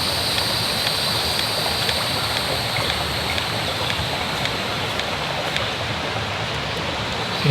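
A steady rush of water runs continuously and loudly at close range as a hand pump water filter pumps water into a Nalgene bottle outdoors, with no breaks or voices.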